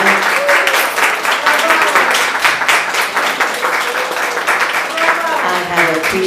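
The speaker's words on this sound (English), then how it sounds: "give them a big hand of applause" Loud, close applause from an audience at a gathering in a restaurant venue, with individual claps audible in a steady rhythm and voices calling out over the clapping.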